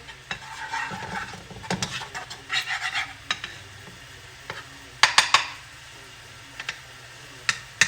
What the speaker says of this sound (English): My butter's melting.